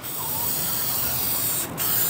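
A continuous hiss of oil being sprayed as a coating onto an offset smoker, loud and close, with a brief pause near the end.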